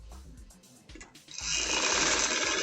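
An electric sewing machine stitching an angrakha shirt starts up after a few soft clicks and knocks, then runs steadily with a fast, even whirring hum up close.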